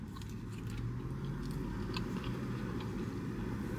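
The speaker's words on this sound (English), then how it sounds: "Now, the first time a freaking Cheez-It crunch this entire time." Quiet, close crunching and chewing of a Cheez-It snack from a Taco Bell Cheez-It menu, a steady run of small bites with no talking.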